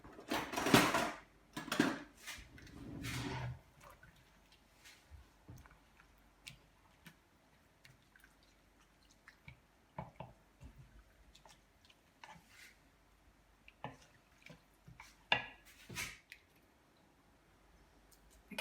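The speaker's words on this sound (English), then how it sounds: "So I've added in my onions and my garlic, and I shall be mixing it." Mince with onions and garlic stirred in a pan: a few louder squishy scrapes of the spoon at first, then sparse soft clicks and light sizzling taps spread over a quiet stretch, with no talking.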